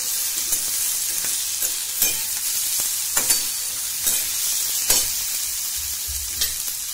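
Onion and tomato frying in a pan for a drumstick besan pitla, a steady bright sizzle with occasional soft stirring scrapes, close and continuous with no talk.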